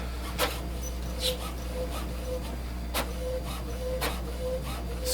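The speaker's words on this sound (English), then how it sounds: "It's calibrating the printer." An HP Envy 5660 all-in-one printer calibrating its print head during setup gives a steady mechanical hum with repeated short clicks and carriage clacks at irregular intervals, close by and alone.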